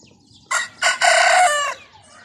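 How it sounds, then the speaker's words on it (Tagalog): A black rooster on a farm in Kuwait crows loudly and close by, a couple of short opening notes followed by a long drawn-out call, with no talking. "Ayan, manok. May chicken dito."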